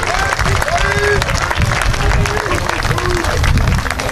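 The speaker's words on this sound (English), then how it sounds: "let's have a nice round of applause for the Flagler College Baseball Class of" A crowd at a college baseball game claps and cheers loudly and steadily, dense applause filling the space with some babble and whistles mixed in.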